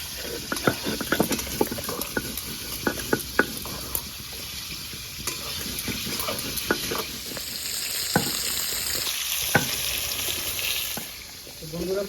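Potatoes and pointed gourd fry together in a pan for a Bengali gourd-and-prawn dish, giving a steady sizzle broken by scattered clicks and scrapes as the pieces are stirred.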